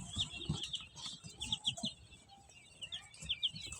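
Quail on a quail farm give repeated high, chirping calls that overlap throughout, several birds close by with no talking.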